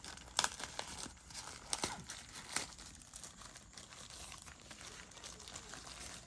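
Crinkling and tearing of plastic packaging as a FreedConn R1 Pro motorcycle helmet intercom is unboxed, with a few sharp rustles and rips close by, no talk.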